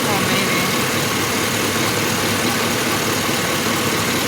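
A truck's engine idles steadily and loudly throughout, a continuous dense rumble with no pauses, suggesting a close position near the running vehicle.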